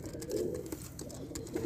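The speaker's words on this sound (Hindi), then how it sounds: "ये टोटल 5 कबूतर है" Soft, low coos from small short-tailed golden pigeons repeat in a gentle rhythm, fairly close, with a faint background hiss and no talking.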